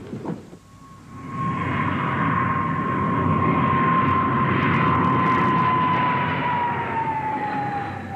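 An RAF aircraft approaches the runway at Cranwell to land, its engine swelling into a steady, loud roar with a sustained whine that holds and slowly drops in pitch.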